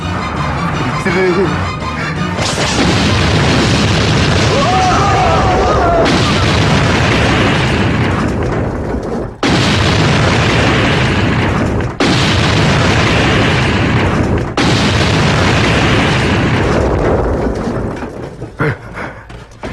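Firecrackers go off in loud, booming blasts that merge into long, roaring stretches of explosions broken by brief pauses, with shouting voices mixed in.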